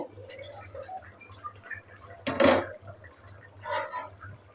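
A pan lid lifted off a pot of cooking rui fish with pointed gourd and potato makes a brief metallic clank and scrape, set among quiet kitchen sounds and soft talk.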